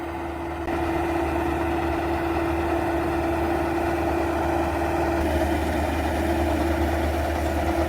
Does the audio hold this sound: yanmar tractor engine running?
yes